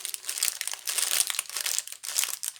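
A paper wrapper around a dishwasher tablet crinkles and crackles up close, with dense, continuous rustling bursts for nearly three seconds and no voices.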